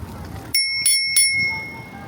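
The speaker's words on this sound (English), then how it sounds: "Came with a bell." An e-bike's bicycle bell rings three times in quick succession, bright metallic dings near and clear, the last one left to decay, with no talk.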